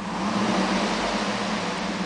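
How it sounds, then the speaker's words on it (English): A 2007 Cadillac Escalade engine runs steadily, a close, even hum with a slight swell as it is revved, with no talk. "I'm going to rev the engine."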